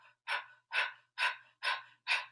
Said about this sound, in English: do 30 seconds of breath of fire. Inhaling and exhaling, nice and even